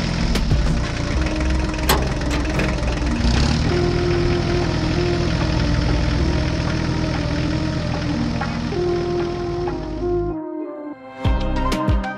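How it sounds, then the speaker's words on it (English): A heavy farm tractor engine idles and rumbles steadily, loud and close, before it cuts out near the end, leaving brief clatter. "The new tractor must transport 3 massive trailers filled with bales straight to the farm."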